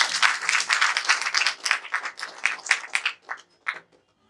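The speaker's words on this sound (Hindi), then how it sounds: "जोरदार तालियों के साथ" Applause from a seminar audience during a felicitation, a dense burst of many hands clapping that carries on for several seconds and then tapers off to scattered claps.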